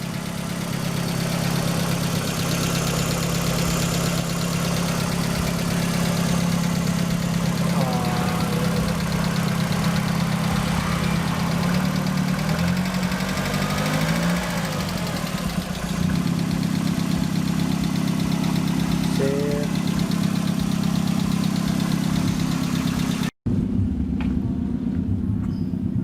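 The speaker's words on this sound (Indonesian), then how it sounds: "Suara mesinnya halus teman-teman." A 2010 Kia Rio Pride fitted with a racing exhaust idles steadily with a low, smooth, even hum close by, and faint chirps pass over it midway before a brief cut near the end.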